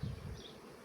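Honey bees from a drone-laying colony buzz close by in a short, dense low hum that is strongest at the start, then thins out.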